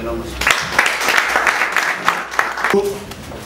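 A crowd at a medical oncology conference in Kinshasa claps in sustained applause for a few seconds, with a voice speaking briefly at the start and again as the clapping fades.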